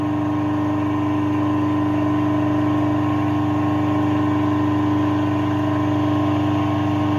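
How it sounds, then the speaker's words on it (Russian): Three-phase 380V electric motor running on 220V single-phase through a run capacitor, a loud steady hum with strong tonal whine, constant throughout and alone. "Двигатель с охлаждением работать может часами"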